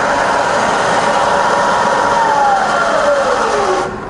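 A Bridgeport Vari Speed milling machine spindle running in low range gives a loud steady mechanical whine whose pitch glides downward as the speed is reduced, before the sound drops off at the end.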